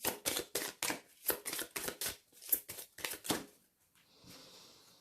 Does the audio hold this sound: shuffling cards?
yes